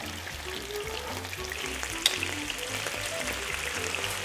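Pasta is tossed into a hot frying pan with garlic and olive oil, sizzling and crackling steadily, with a low rhythmic hum beneath and one sharp clink midway.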